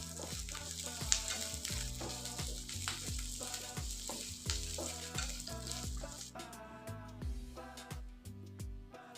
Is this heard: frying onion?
yes